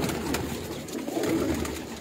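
Teddy pigeons coo on a rooftop in a brief, low, burbling run of calls, close and fairly loud over faint background noise.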